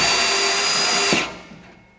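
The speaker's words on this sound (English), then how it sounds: "So you're drilling slow with pressure." A power drill drives screws slowly under pressure into timber for a raised garden bed, a loud steady whine that cuts off abruptly after about a second, followed by a fading tail, with no talk.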